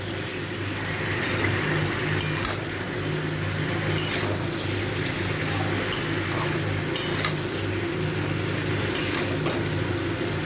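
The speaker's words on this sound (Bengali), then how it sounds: "এই নুন আর হলুদটাকে একটু ভালো করে মিশিয়ে দেব" Salt and turmeric stirred in a pan while making a pumpkin-stem and poppy-seed curry, with scattered metallic scrapes and clinks of a spoon over a steady kitchen hum.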